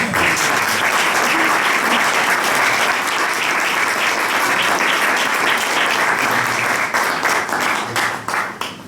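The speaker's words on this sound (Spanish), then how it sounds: "pido un fuerte aplauso para Leopoldo López" An audience at a book presentation gives loud, sustained applause that fills the space and begins to thin toward the end.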